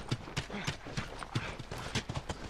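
Horses' hooves clip-clop in a brisk, steady rhythm in The Last of Us video game. The repeated clopping sounds fairly near but at modest level over a soft background.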